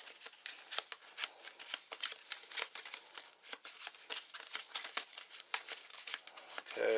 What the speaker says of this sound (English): shuffle those up.